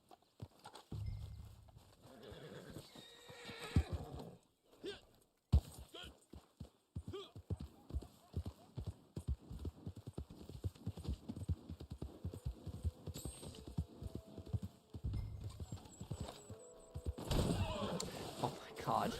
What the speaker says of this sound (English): I'm having such trouble with my horse right now.